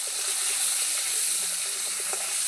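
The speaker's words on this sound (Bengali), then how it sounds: "আলুগুলো ভালো করে ভেজে নেব" New winter potatoes frying in oil with cumin and garam masala, giving a steady, close sizzling hiss with faint crackles and no talking.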